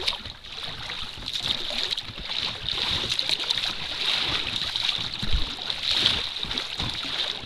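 A small boat motors steadily along a river, its engine whine constant under rushing water and wind noise.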